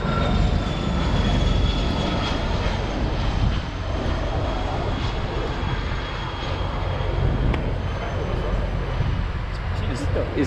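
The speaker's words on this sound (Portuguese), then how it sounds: "Esperando um avião gigante" A steady, loud roar of a large airplane engine drones throughout, close and continuous, with no clear voices over it.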